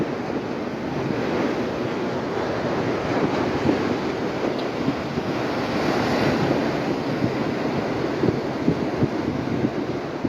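Sea waves roar continuously and loudly nearby, surf crashing onto rocks at a beach in Wattala, Sri Lanka, a dense wash with steady wind noise and no talking.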